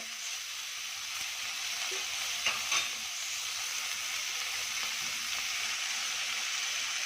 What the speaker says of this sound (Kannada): ಈರುಳ್ಳಿ ಫ್ರೈ ಆಗ್ತಿದೆ